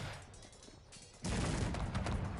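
Artillery guns firing on buildings in a strategy video game: a dense, loud barrage of overlapping booms and rumbling that erupts abruptly halfway through, after a quieter stretch of distant battle noise.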